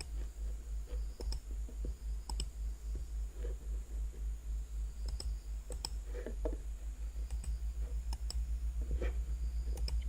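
Mouse clicks on a Windows 10 emoji keyboard, inserting emojis into a Facebook post: a steady series of sharp, close clicks spaced about a second apart over a constant low electrical hum.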